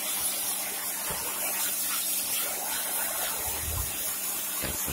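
Water sprays steadily onto an air conditioner filter as it is washed, producing a continuous broadband hiss with some lower splashing and gurgling, close and moderately loud, with no voices.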